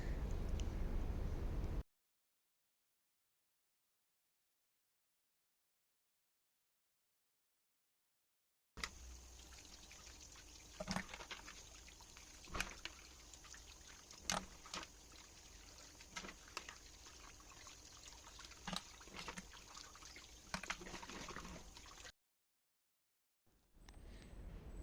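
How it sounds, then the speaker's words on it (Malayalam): Mussels washed under a strong running tap, a steady trickling pour of water with irregular splashes and clatters of shells, broken by a stretch of silence near the start and another near the end. "പൈപ്പിൻ്റെ ഇങ്ങനെ എന്താ പറയുക ചോട്ടിൽ വെച്ചിട്ട് നല്ലോണം ഒന്ന് ശക്തിയിൽ വെള്ളം ഒഴിച്ചിട്ട് കഴുകുന്നുണ്ട്"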